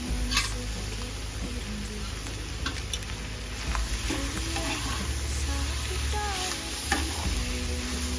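Spiced dish with chili powder, green chilies, pepper powder and coriander frying and being stirred in a pan, a steady close sizzle with scraping stir strokes and occasional clinks throughout.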